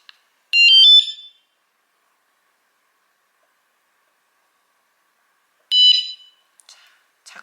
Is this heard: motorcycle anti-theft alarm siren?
yes